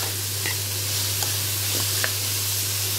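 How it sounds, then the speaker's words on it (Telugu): Sliced onions frying in oil in a pan for a dried prawn curry, giving a steady close sizzle with a few faint stirring clicks and a low hum beneath, no voices. "ఇవన్నీ చక్కగా గోల్డెన్ బ్రౌన్ కలర్ వచ్చేదాకా వేపుకోవాలి."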